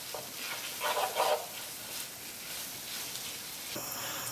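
Ginger and garlic fry in a pan with a steady, close hiss of sizzling, broken early by a few louder stirring scrapes, and no one speaks.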